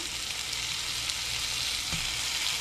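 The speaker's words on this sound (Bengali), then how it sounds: "আমি এবার টমেটো যেটা কুচিয়ে রেখেছিলাম সেটা দিয়ে দেবো এর মধ্যে" Chopped tomato hitting spicy masala frying in oil for a chicken gizzard and liver fry, a steady loud broadband sizzle that carries on evenly throughout, with a brief stir near the end.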